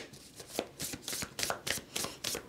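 Tarot cards being shuffled by hand in a quick, steady run of crisp riffling slaps, close and fairly loud with no talking.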